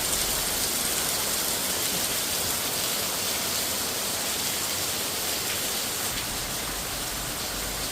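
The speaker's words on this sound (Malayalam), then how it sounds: "മഴ ഈ ഭാഗത്ത് കണ്ടോ" Steady rain falls outdoors in Vazhoor, Kottayam, a dense, even hiss that holds without a break. There are no voices.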